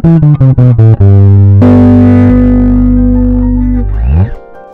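A bass guitar plays a seventh-chord arpeggio exercise up the fretboard, with quick plucked notes climbing and then a long sustained low note ringing out loudly on its own before fading.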